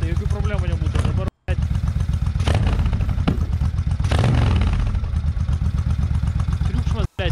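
Suzuki Intruder 1500LC motorcycle engine running loudly and continuously, with a steady low rumble and some clattering, briefly cut out twice.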